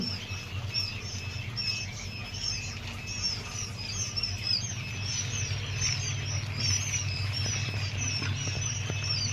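Many quail chicks cheep in quick, high, overlapping peeps at a farm in Mymensingh Sadar, a dense steady chorus over a low constant hum, with no talking.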